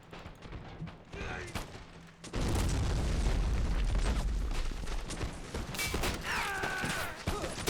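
Artillery barrage in Born in the Fire: America, a Red Coat beach assault: a sudden heavy rumbling boom from howitzer shells swells at once and keeps roaring with scattered blasts and debris, a low murmur of talk in the background.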